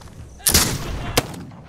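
Two booming hand cannon shots ring out in the video game This Land is My Land, a loud first blast followed by a sharper second one about a second later.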